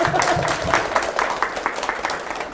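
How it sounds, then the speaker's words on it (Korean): Teachers at a Korean church-school teacher training lecture burst into steady self-congratulatory applause, a dense, fairly loud roomful of clapping that continues throughout. "자축의 박수."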